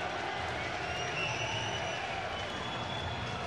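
Electric crowd roaring steadily at SSE Arena, Wembley in London before a welterweight MMA bout, a dense, continuous wash of cheering and scattered clapping filling the hall at moderate level.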